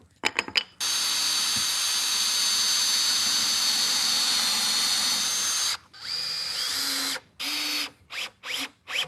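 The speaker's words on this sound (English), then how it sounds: "Special type of drill bit that drills a pilot hole and then counterbores the top for a plug." A handheld power drill with a counterbore bit bores into wood, one long steady whine followed by several shorter bursts, close and loud with no talk.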